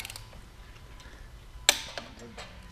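Torque wrench tightening the flywheel bolts on a Nissan 300ZX in a garage, giving one sharp metallic click followed by a couple of smaller ticks and ratchet clatter over a low background hum.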